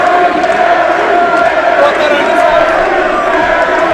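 Wrestling crowd at the 3LW Ice Breaker 2024 show, loud and sustained cheering and shouting in the arena, a constant dense roar with a commentator's voice mixed underneath.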